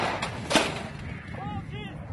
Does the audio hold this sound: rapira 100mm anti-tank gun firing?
yes